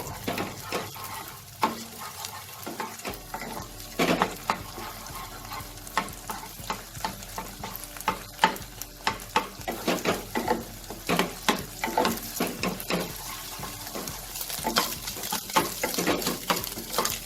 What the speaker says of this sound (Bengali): এই ডিমটা দিয়ে ভুজি বানিয়ে নেব।